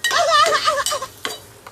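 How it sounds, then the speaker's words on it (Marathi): Masala spices are heated and stirred in a pan in a home kitchen: a brief burst of sizzling with quick spoon scrapes and light clinks against the pan, with a voice briefly audible. "मसाला थोडा गरम करतोय गाईस."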